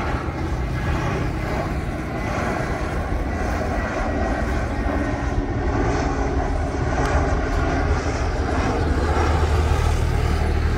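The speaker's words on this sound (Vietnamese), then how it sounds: "Đây là pha hạ cánh của chiếc A320 Thái AirAsia quay từ camera góc rộng." Thai AirAsia Airbus A320 in special livery landing at Noi Bai airport in thick fog, a steady broad jet engine roar held at even loudness throughout, with no voices.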